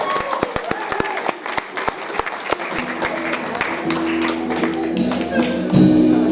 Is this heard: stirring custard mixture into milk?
no